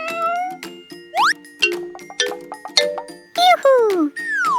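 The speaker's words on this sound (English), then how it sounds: "It's a cat." A cartoonish cat meows several times in a children's farm animal puzzle, with bright rising and falling cries mixed with chiming jingles, loud and close.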